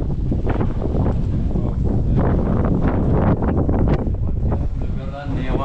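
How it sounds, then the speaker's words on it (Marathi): Strong cold wind gusts across an open dam, a loud continuous rushing buffet on the microphone with people talking over it. "जर हवा कसली सुटली ना"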